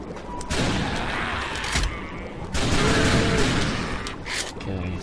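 Rapid video-game gunfire from the House of the Dead Overkill light-gun shooter, bursts of shots crackling continuously across the clip and mixed with game noise, with a voice talking intermittently over it.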